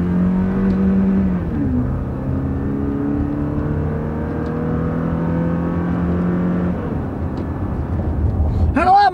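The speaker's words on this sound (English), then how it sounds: "We'll put it in first gear and we'll take off. We'll shift it manually." A used car pulls away from a stop in first gear and is shifted manually, its engine note rising, dropping at a gear change, then climbing again, steady and fairly close.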